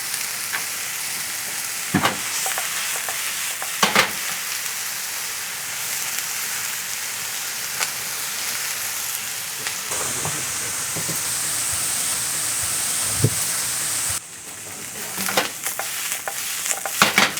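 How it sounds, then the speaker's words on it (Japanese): Onions sizzle steadily in a frying pan, a continuous close hiss with occasional sharp clicks and scrapes of stirring, heard alone without talk. "ついた焼き色を見ながら火加減を調整したり、 フライパンを置く場所をちょっと移動させたりしながら様子を見ながら焼いていってください。"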